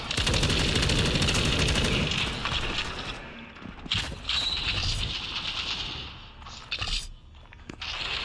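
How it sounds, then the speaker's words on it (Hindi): Sustained machine-gun fire rattles in the World War Heroes war game, dense and continuous at first, then breaking into shorter bursts and scattered single shots, loud and close, with no speech. "कौन सी गन कहाँ से चले वो समझ नहीं आ रहा।"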